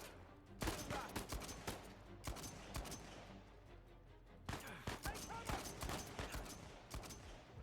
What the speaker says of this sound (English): What am I shooting at?